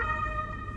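An ambulance siren in Germany wails steadily on a high tone, close and loud, with traffic rumble underneath and no voices.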